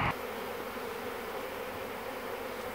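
A swarm of honey bees buzzes in a continuous dense drone, steady and fairly close, after a brief knock at the start.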